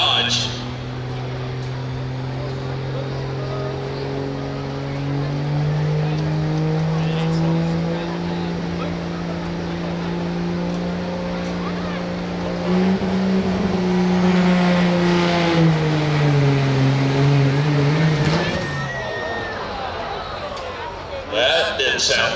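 A 2008 Dodge truck at a truck pull at the Guernsey County Fair in Old Washington, Ohio, its engine droning steadily, then revving harder and climbing in pitch before cutting back, with an announcer talking over it.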